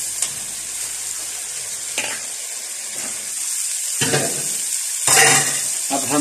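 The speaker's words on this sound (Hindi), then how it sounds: "अब आपने भूनना इसको है, आपने सही से भूनना है इसको" Sabzi masala paste fries in a pan with a constant bright sizzle, while a spoon stirs it roughly once a second in short scraping surges; a louder burst of sizzling rises near the end.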